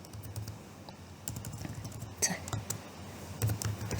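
Typing on a computer keyboard, a run of quiet, uneven key clicks, close and fairly soft, with no voice.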